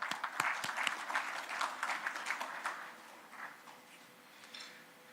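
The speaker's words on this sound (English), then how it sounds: "So let us clap." An audience at a textile engineering conference claps in a burst of scattered, fairly close applause that thins out and fades over a few seconds, with no talking over it.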